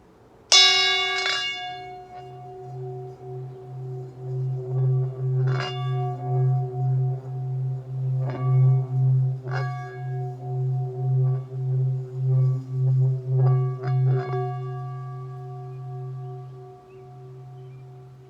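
A deep bowl tone hums with a slow, pulsing wobble, sustained and swelling for many seconds, with a few light metallic strikes on top before fading.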